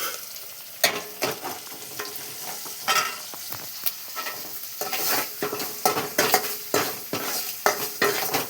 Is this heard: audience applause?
no